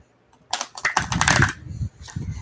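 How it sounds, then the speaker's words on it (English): A quick riffle shuffle of playing cards: a dense, rapid flutter of card edges lasting about a second, followed by a shorter second burst. "I do rifle my cards, so I will usually split the deck"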